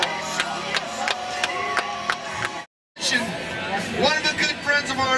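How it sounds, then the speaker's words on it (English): Crowd applause and cheering at the X Games 14 skateboarding event, a loud, dense wash of clapping and voices that cuts out for a brief silent gap, then swells back with sharper claps and shouts. "Round of applause one more time for Rune Clifford taking the goal."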